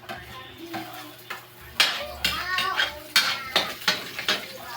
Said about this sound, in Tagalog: Palutuin natin ang bawang para mabango